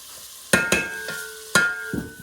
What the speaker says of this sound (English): garlic, chilli. Give it a good stir.